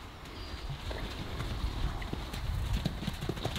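Several horses mingling and socializing, hooves clip-clopping in a steady scatter of near thuds over soft outdoor background, with a faint voice.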